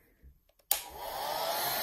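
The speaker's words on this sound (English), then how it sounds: "you get your blow dryer and do it on low" A blow dryer set on low clicks on after a brief quiet moment and then runs as a steady, even whoosh of airflow close by, with no talking.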